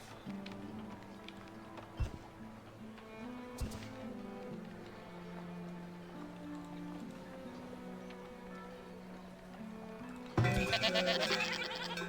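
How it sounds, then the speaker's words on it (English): A goat in the video game Farthest Frontier bleats in a sustained, wavering call over quiet game ambience. Brief clicks punctuate it, and a louder burst of noise arrives near the end. "Is that a runaway goat?"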